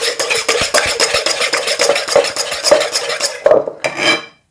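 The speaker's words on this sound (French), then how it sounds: "Il faut juste bien mélanger." Chocolate cake batter with vanilla sugar is stirred by hand in a bowl: loud, close, rhythmic scraping strokes with light utensil clinks that continue steadily, then stop abruptly.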